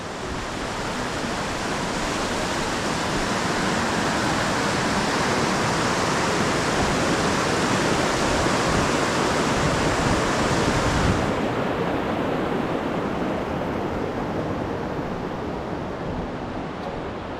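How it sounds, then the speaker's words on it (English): Mountain creek pouring across a dirt road on a Colorado fourteener approach, a dense, steady rush of water, loud and close, with no voices. "Yeah, that's the creek crossing."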